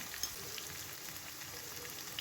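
Carrots and green beans fry in white oil in a pan, giving a faint, steady, even sizzle with no break and no voices.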